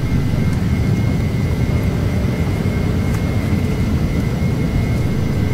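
Embraer Phenom 300 twin jet engines at takeoff power in a flight simulator, a steady loud roar with a constant high whine running through the whole stretch, no talk over it.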